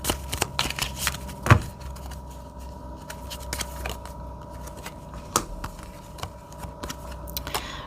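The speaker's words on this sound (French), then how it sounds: "Je vais quand même mettre une carte là-dessus." Tarot cards are shuffled and placed down, giving a run of quick, crisp papery riffles and light slaps, close and moderately loud, with a sharper tap partway through and no voices.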